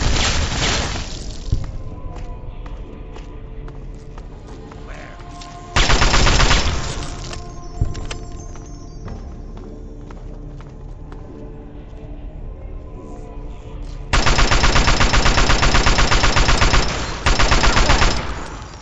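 Gunfire in the Fallout 3 video game: loud automatic bursts open the stretch, return around the middle and hit hardest near the end, with quieter battle noise between them.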